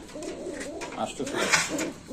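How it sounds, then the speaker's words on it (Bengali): Soft cooing murmurs from a pair of pigeons, Lal Patri young, underneath a person talking, close by and fairly quiet, with brief louder bursts. "এখানে আছে একজোড়া ভাই কবুতর এটার নাম কি ভাই এটা লাল পাত্রির বাচ্চা"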